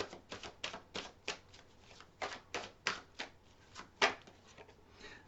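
An oversized tarot deck being shuffled by hand, a series of about a dozen crisp riffling bursts in uneven rhythm, close and fairly quiet, with no talk.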